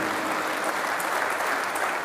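Continuous crowd clapping at an Urdu poetry mushaira in Muscat, Oman, an even wash of many hands applauding together without pause, with no clear speech over it.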